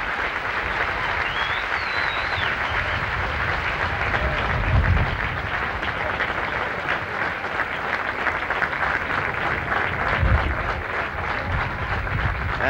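Steady applause rolls from a golf gallery at the 1979 U.S. Open at Inverness, a broad, slightly distant wash of clapping from a large outdoor crowd that holds throughout.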